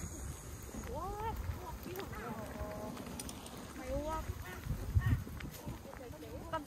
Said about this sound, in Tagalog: Mga huni ng ibon ang naririnig mo.